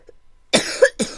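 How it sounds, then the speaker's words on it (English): Two sharp coughs from a nearby person, a short pause before the first and a quick second one right after, loud and close with no other sound. "Sorry about my cough, guys."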